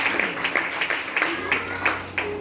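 A church congregation claps in praise of the Lord, giving steady rhythmic applause of about eight or nine strong beats, with crowd voices mixed in.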